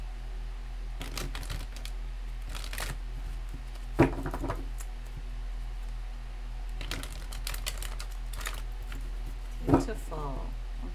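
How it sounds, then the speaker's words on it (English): Sharp, crisp bursts of tarot cards being shuffled and riffled in several short clusters, close by, with a faint voice speaking between them. "Surprised they let me shuffle."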